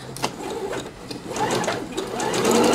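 Sewing machine stitching a nautical-themed fabric cushion with a zigzag stitch, a close, steady rapid whirring rattle that builds slightly in speed over a few seconds, with no talking.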